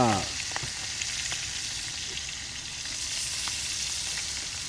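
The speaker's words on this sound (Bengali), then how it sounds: "ইলিশ মাছ ভাজি শুরু হয়ে গেল" Hilsa fish frying in a pan outdoors, a loud, dense, steady sizzle that runs throughout with a few faint clicks, no speech over it.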